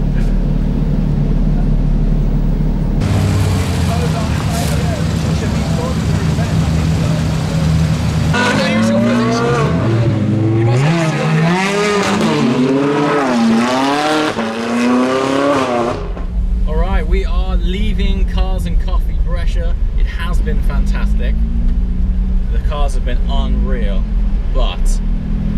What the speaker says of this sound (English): let's watch these cars exit and hit the road